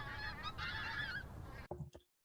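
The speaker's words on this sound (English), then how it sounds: "first pink-footed geese are flying over Leigh, maybe on their way to the wash for the winter" A flock of pink-footed geese honks while flying over in autumn, a dense overlapping chorus of calls for over a second before it breaks into a few scattered honks that fade to silence.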